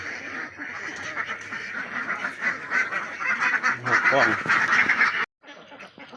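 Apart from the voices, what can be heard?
ducks quacking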